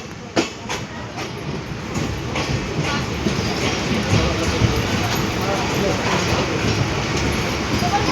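A train pulling into Kechki station near the Kechki rail bridge, a steady broadband rumble with rhythmic clatter of wheels over rail joints running throughout, loud and close, with a voice talking over it.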